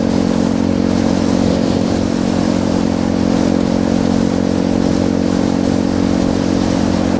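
A Honda Grom motorcycle runs steadily at cruising speed, a loud continuous small-engine drone with constant wind rumble and no pauses, heard up close while riding.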